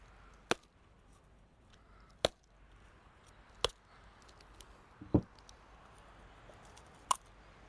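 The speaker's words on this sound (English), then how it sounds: "So we're just going to take the weight of the stone, apply it right onto the coconut." A coconut is cracked open with a stone at a resort demonstration in Hawaii: several sharp, separate knocks spaced a second or two apart, fairly close, over a quiet background with no talk.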